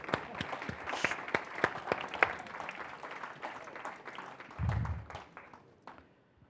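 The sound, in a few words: audience clapping at awards ceremony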